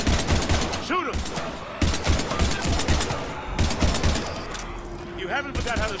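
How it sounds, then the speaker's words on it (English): Heavy gunfire in the video game Mass Effect 3, a dense continuous fusillade of rapid shots and impacts during combat against husks, loud and constant beneath shouted dialogue. "we're taking heavy fire"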